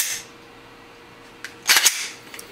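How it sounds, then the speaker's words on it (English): Trigger of a cutaway Glock pistol dry-fired, a few sharp mechanical clicks close up, faint against a quiet room. "Here's a back view of the trigger being fired."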